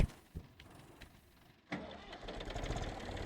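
A vehicle engine in Farming Simulator 19 cranks with a few soft clicks and a short whirr, then catches and settles into a low, steady rumbling idle.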